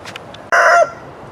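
Backyard chickens give a few soft clucks, then a rooster lets out a single loud, close crow lasting about a third of a second before things fall quiet again; no one speaks.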